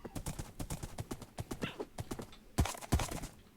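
Horse hooves clip-clop in a hardcore survival video game, a quick even run of hoofbeats followed by two heavier, louder thuds near the end.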